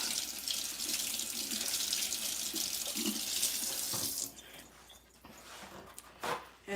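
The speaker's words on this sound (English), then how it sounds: "So I'm washing my hands right now." Hands are washed under a steadily running kitchen tap before making condensed milk candy. The close, splashing flow lasts about four seconds, then stops, leaving a few faint drips and handling noises.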